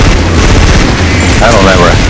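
Rapid gunfire in a video game, dense bursts of shots rattling loudly throughout, mixed with a voice talking and a brief whistling tone near the end.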